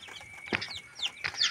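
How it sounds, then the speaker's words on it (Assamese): Two-day-old chicken chicks chirp in several short, high peeping bursts close by, fairly faint over a quiet background, with no talking. "এইখিনি চাওক মোৰ কুকুৰা পোৱালিখিনি"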